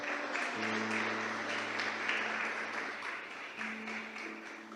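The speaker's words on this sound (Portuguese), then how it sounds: "Você pode aplaudir ao Senhor em nome de Jesus?" Church congregation applauds during a Brazilian evangelical service: a sustained wash of clapping from a roomful of people, moderately distant, with steady sustained instrumental tones underneath.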